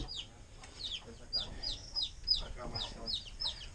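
Chickens cluck in short, repeated bursts, fairly close, on a rural farm smallholding, with faint talk and background noise underneath.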